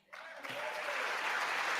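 Members of Congress applaud in a large chamber during opening remarks by McCarthy, the clapping swelling quickly from a quiet start into dense, sustained applause.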